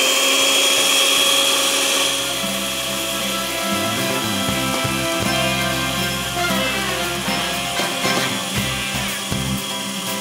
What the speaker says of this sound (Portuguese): Esse liquidificador dá uma impressão de que não vai bater nada, né?